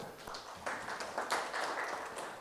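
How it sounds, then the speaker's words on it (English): Applause for roundtable presenters: a short, faint patter of scattered clapping from a small audience, steady for a couple of seconds. "So let's give them another round of applause"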